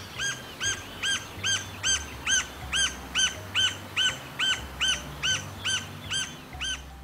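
A green-barred woodpecker calls with a steady run of about fourteen evenly spaced, clear notes, loud and fairly close over a soft hiss of background ambience.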